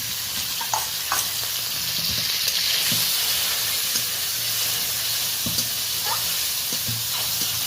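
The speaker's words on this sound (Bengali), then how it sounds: "তেলটা গরম হয়ে গেছে তেল থেকে হালকা ধোঁয়া উঠতে শুরু করেছে লবণ হলুদ মাখানো চিংড়ি মাছটা দিয়ে দিলাম" Steady crackling sizzle of turmeric-and-salt-coated shrimp frying in smoking hot oil, continuous and close, with occasional sharper pops and no talking.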